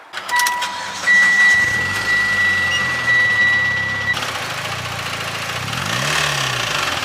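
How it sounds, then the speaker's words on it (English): Turbocharged Mitsubishi Lancer engine cranking and starting, then running with a rough, rhythmic ticking under the idle, accompanied by steady electronic warning beeps. "it was making weird ticking sound"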